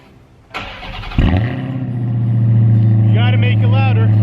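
Dodge Hellcat Charger cold start: a quiet click, then the starter whir and a loud catch as the engine fires, settling into a deep, steady high idle close by, with a brief voice-like chirp near the end.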